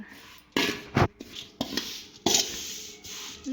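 Grated coconut roasting in a pan, heard as scraping and clinking of a utensil against metal, with several louder scrapes in bursts over a low hiss.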